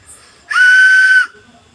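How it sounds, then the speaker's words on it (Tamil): A toy whistle from a mystery gift box gives a single shrill, steady tone lasting under a second, loud and close with a breathy hiss, then cuts off into quiet. "ஒரு மாதிரி விசில் வருது, சவுண்ட்லாம் வருது"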